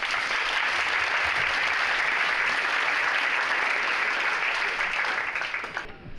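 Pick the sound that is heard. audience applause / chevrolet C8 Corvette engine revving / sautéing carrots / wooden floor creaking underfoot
audience applause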